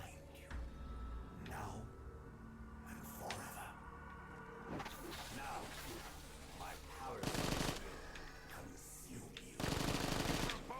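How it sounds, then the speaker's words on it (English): Rapid bursts of AK-47 gunfire in Black Ops 3 Zombies, repeated crackling volleys from the game sounding between quieter stretches, with the loudest bursts near the end. "What is this gun? AK-47, okay."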